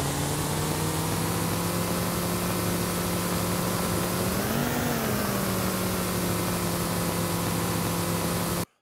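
High-RPM engine sample from an FMOD adaptive engine demo, a loud, steady synthetic drone with a brief upward swell in pitch midway before settling and cutting off abruptly.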